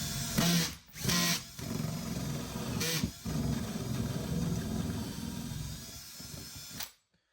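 A power drill with a spider bit whirs steadily as it bores, its motor note dipping briefly a few times under load before cutting off abruptly at the end.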